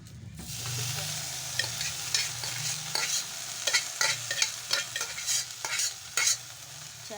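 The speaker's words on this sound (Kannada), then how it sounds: "ಇದ್ರ ಮ್ಯಾಗ ಈ ಕಾಳು ಸುಟ್ಕೊತೀವಿ" Green gram roasts in a hot pan, a continuous dry sizzle punctuated by repeated rhythmic stirring scrapes and rattling grains, close and fairly loud throughout.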